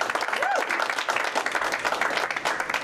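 An audience at a bowling center applauds in a steady, dense wash of clapping that holds for several seconds, while an announcer speaks over it.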